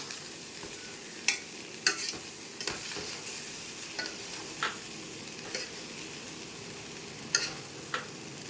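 Vegetables and rice for chicken fried rice stirred in a hot pan: a quiet continuous sizzle with occasional crisp spatula scrapes and knocks, spaced irregularly, no voices.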